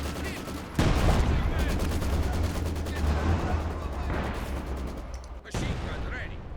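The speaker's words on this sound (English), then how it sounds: "Looks like Katyusha's going after this machine gun here, perhaps." Dense, continuous battlefield gunfire and booming rocket salvos from Katyusha artillery in Company of Heroes 2, loud and rolling for several seconds with a brief dip near the end.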